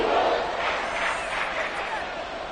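A packed football stadium crowd roars steadily during a late-game Seahawks third-and-inches, trying to force a false start; dense, loud, sustained noise with no break.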